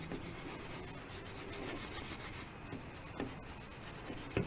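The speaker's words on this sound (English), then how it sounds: "then I'm going to give it a good buffing" Faint, continuous rubbing and scraping while a hoop on a 1938 Leedy snare drum is buffed by hand, with a few soft knocks, close and quiet, no talking.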